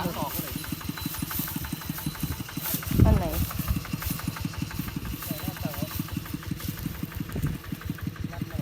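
A farm vehicle's diesel engine idles with a steady, rapid chugging rhythm, close by and constant, with a brief louder clunk partway through.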